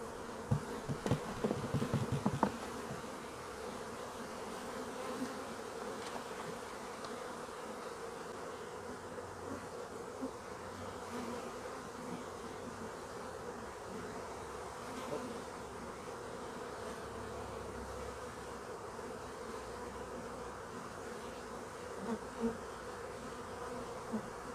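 Honey bees swarming around a honey frame pulled from a hive, a dense continuous buzzing drone near and far, with a few brief knocks early on.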